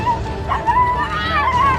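Dog whimpering and yelping in short, high, wavering cries while being rescued from a huge snake, close and fairly loud over a low background rumble.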